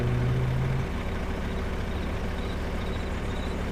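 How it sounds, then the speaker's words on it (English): A heavy truck engine in Farming Simulator 25 runs with a steady low drone and faint mechanical whine. It stays fairly constant and close, with no speech. "Sounds different than the other trucks, at least."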